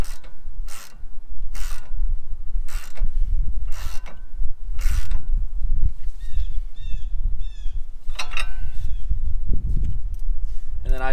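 A lug nut is tightened onto a new wheel stud on a Nissan 350Z, with repeated loud ratcheting clicks in bursts separated by short pauses, close by and over a dull mechanical rumble.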